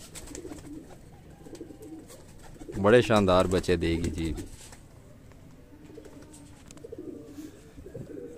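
Highflyer breeder pigeons give a soft, low cooing, with a louder burst of calls near the middle. Someone talks quietly before and after it.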